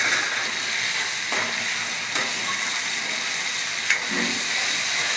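Crushed tomatoes hitting hot oil for a soybean chunk curry, giving a steady close hiss and sizzle with occasional scraping stirs and a sharp clack near the end.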